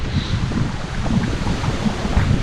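Strong wind buffets the microphone at Chic's Beach on Shore Drive, a loud continuous roar with low gusty thumps, surf noise blended in beneath.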